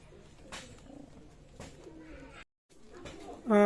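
Pigeons coo softly in a loft among other bird sounds, with a few brief knocks and a short gap. A louder coo rises at the very end.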